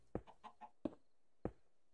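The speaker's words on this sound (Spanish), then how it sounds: "No dije yo que había una gallina, tío." A chicken clucks quietly: three short, sharp clucks spaced about half a second apart, with softer, throaty murmurs between them, heard alone with no talking.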